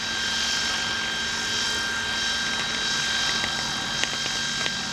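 Steady whining rotor drone of a DJI multirotor with an XP3.1 flight controller hovering in place, constant and fairly loud throughout, with a few faint clicks near the end.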